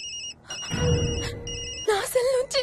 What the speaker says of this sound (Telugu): నా సెల్ నుంచి ఫోన్ వస్తుందంటే